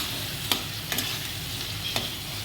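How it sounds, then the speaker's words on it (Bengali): Manchurian mixture frying in a pan with a little chilli powder, making a soft, steady sizzle with three sharp spoon scrapes or taps against the pan, close and without voices. "এবার এটা একটু ভাজি হবে, একটু ভাজি হবে"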